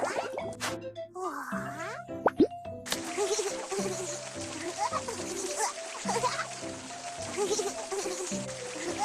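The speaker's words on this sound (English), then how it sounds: "Let's apply some soap to wash Jojo cleaner." Bath water in a baby care video game gives soft plops and small splashes, set against bright synthetic game tones and a cheerful backing tune.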